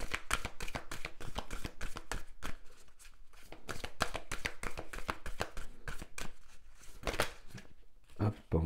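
Oracle cards shuffled by hand to draw a single card, a quick crisp run of riffling and flicking close up, with soft speech at the end.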